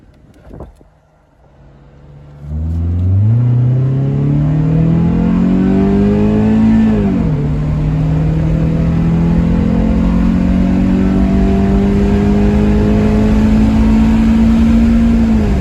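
A Honda Civic EJ1 with a swapped K-series K24/K20 engine revs up from idle into a long, loud, steadily rising engine drone, with a brief dip around a shift before it keeps climbing.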